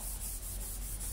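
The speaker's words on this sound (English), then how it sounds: "I want to lightly sand it again." Quiet, close, continuous rubbing of a very fine sanding pad on an oiled wooden guitar body, with steady back-and-forth strokes in a quiet room.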